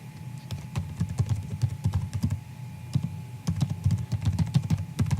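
Rapid, irregular keystrokes on a computer keyboard, clicking steadily and close-up for about five seconds with no speech.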